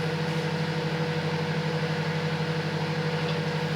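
Silvercrest microwave oven running a defrost-by-weight cycle on a frozen pizza, a steady low hum with a constant buzzing drone, close and unbroken, with no voices.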